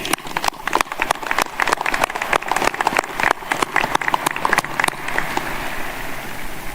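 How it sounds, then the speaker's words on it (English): A crowd applauds at the US Air Force Academy 2025 commencement, with a burst of sharp, dense clapping that thins out and fades into a softer, diffuse wash after about five seconds. "another round of applause, please"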